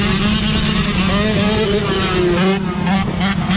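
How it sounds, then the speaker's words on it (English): Loud roaring engines of cars and dirt bikes revving and passing close by, continuous and aggressive, with a rising whine toward the end. "You either hear loud cars or 12 o'clock dirt bikes."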